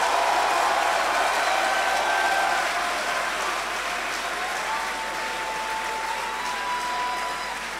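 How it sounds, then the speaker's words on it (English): Sustained applause from an audience at a university graduation ceremony, a dense wash of many hands clapping that holds steady and then eases slightly toward the end. "With a resounding round of applause,"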